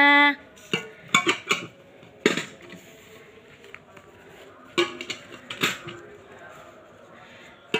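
Metal coins drop one at a time into a child's piggy bank, giving sharp clinks and rattles in irregular bursts with pauses between them, over a quiet room and faint voices.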